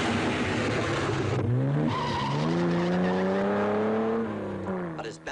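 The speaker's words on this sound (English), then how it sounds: "The Porsche is frantically trying to make up time lost further down." A Porsche rally car on a 1958 Coupe des Alpes hill climb, engine loud and close with rising revs through gear changes and tyre squeal, fading slightly at the end; a voice speaks briefly over it.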